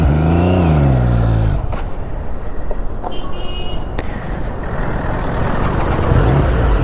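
A Triumph Street Triple 675 motorcycle fitted with a slip-on exhaust runs loudly close by, its engine note rising at the start and then settling into a steady, rumbling idle with a few brief mechanical clicks.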